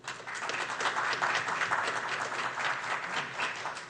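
An audience at a candidate forum claps in steady, sustained applause for a few seconds, moderately loud and with no one speaking over it.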